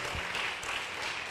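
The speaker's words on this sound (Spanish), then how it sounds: "yo quiero que le den un fuerte aplauso a las hermanas de Taberkid" A church congregation applauds, a dense, steady crowd clapping that stays even and fairly loud for the whole short moment.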